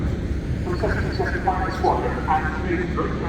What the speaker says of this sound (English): Very, very loud, very, very acrobatic, and just a thoroughly entertaining aircraft.